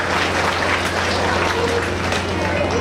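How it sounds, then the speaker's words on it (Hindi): A large gathering at a live Shrimad Bhagavat Katha applauds to welcome the speaker. It sounds like a steady, dense wash of clapping across the whole stretch, with a low electrical hum from the sound system beneath it. "उनके नाम की जोरदार तालियों से स्वागत करें"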